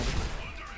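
Burst-fire gunshots in Deus Ex: Human Revolution, a short dense volley of loud shots packed into under a second, with a faint voice underneath.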